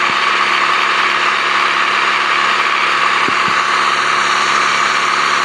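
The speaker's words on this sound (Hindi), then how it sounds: "एग्जॉस्ट की आवाज़ें भी सुनी थी भाई" Toyota Land Cruiser engine with a tuned exhaust in the Car Parking video game: a steady, loud, continuous engine drone that holds one level with no speech.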